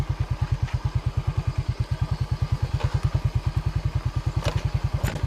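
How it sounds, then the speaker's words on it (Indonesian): A motorcycle rolls downhill at a blue lake left by old mining in the Roban housing area, now a selfie spot. Its engine beats with steady, rapid low thumps, close and continuous, with faint clatter on top. "kita turun pakai motor saja"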